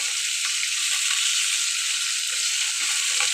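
Fish sizzling steadily in hot cooking oil, a continuous bright crackling hiss with faint scattered pops, no voices, close and even in level throughout.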